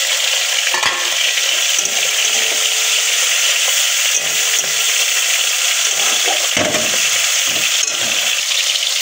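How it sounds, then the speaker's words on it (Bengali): Tomato and ginger frying in a pan for a mocha ghonto dish, a loud steady sizzle with occasional stirring scrapes throughout, no talking. "টমেটোটা ভালো করে ভাজা ভাজা হয়ে যেতে আমি আদাটা দিয়ে দিচ্ছি।"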